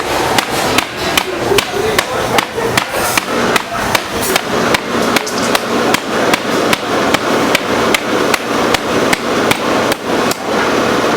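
A coconut is struck again and again with the back of a knife, giving a fast, steady run of sharp, hollow knocks close up and loud, with no pauses.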